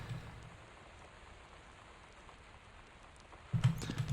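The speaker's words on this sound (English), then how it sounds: "that's supposed to be rain hitting glass on a flat surface" Steady rain patter on a flat glass surface in a video game map, a soft continuous hiss at low level, with a louder burst of rain or rumble near the end.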